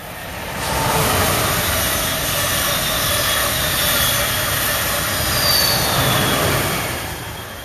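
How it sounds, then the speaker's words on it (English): A train rumbles past at night with a steady broadband roar that swells in over the first second, holds for several seconds, and eases off, alone without voices. "here comes the train."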